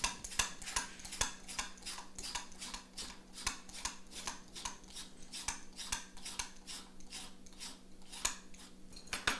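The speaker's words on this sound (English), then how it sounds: "This is a long Japanese radish. So what we're going to do is we're just going to peel it" Peeler scraping along a long Japanese daikon radish, a steady run of crisp, quick strokes repeating in a regular rhythm, quiet and close with no talking.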